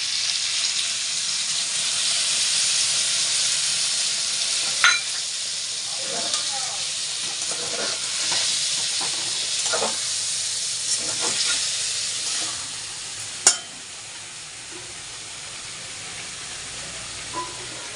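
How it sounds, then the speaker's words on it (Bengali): A pan of fish curry with potato, eggplant and drumsticks hisses and sizzles loudly and continuously as spices are added, broken by occasional clinks and stirring scrapes, with faint talking at times. "এই যে আমি মাছের তরকারি বসিয়ে দিয়েছি ভাজা হয়ে গেছে আলু বেগুন ডাটা এবারে আমি মশলা দিয়ে দিচ্ছি"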